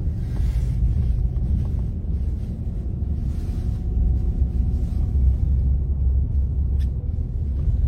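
A small Coyote tractor with a front bucket plows snow off a driveway, its engine a steady, close, low rumble that runs without a break, with some wind buffeting the microphone.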